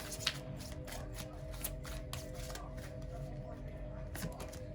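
Tarot cards shuffled close by in a steady run of soft riffling flicks and slaps, quiet and continuous.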